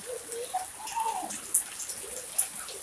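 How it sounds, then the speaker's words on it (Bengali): Steady rain falls outdoors around a rural home where ducks stand out in the wet weather. A soft, even patter with a few sharper drip taps runs throughout at moderate distance. "যে বৃষ্টি হইতাছে, একটু ঘর থেকে নামা যায় না।"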